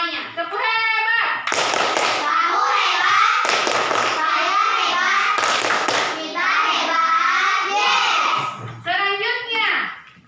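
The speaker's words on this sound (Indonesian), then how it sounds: "Kalau paham, kita beri tepuk hebat untuk semuanya." A class of children in a classroom performs a rhythmic group clap with chanted syllables, loud unison hand slaps landing in sharp bursts between the kids' sung words.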